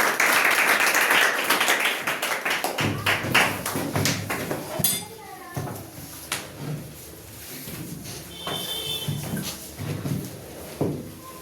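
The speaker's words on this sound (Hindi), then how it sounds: "ममता कुमारी के लिए जोरदार तालियों से स्वागत किया जाएगा" Applause welcomes a student at a school result ceremony, a steady burst of clapping from a crowd that thins into scattered claps and knocks.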